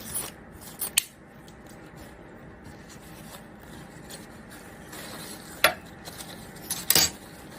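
Scissors snipping ribbon while making a bow, a few sharp close cuts scattered over quiet rustling, with clusters near the start and the end.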